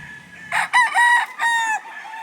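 Rooster crowing among farm chickens, one loud close drawn-out crow in several rising and falling segments, with faint clucking before it.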